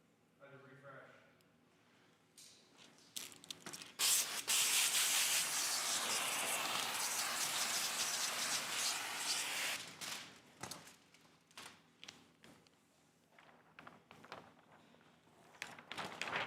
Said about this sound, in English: Why do you rub the razor blade on the window?